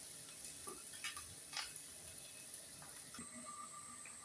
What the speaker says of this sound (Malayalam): മീനെല്ലാം അങ്ങ് മറിച്ചിടുകയാണ്. ഒരു സൈഡ് മൂത്തിട്ടുണ്ട്.